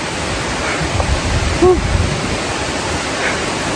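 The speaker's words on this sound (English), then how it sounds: "I can't wait for my lawyer to show you this beautiful waterfall." Leke Leke waterfall in Bali pours with a steady, broad rushing hiss that fills the whole stretch evenly, with a brief exhale and a faint voice over it.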